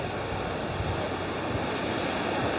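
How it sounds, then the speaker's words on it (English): Ocean waves break at Canggu Beach, Bali, a continuous washing roar of surf with breeze across the microphone, steady and fairly loud with no voices. "Right on top of the waves."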